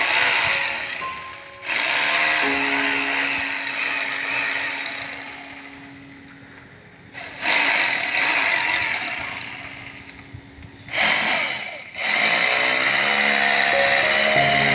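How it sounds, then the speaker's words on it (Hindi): A core drilling machine cuts a 3-inch hole through a 6-inch concrete slab: a steady motor whine with grinding, broken by two short pauses where the drill stops and restarts, close and fairly loud. "आप देख रहे हैं किस तरह से ड्रिलिंग किया जा रहा"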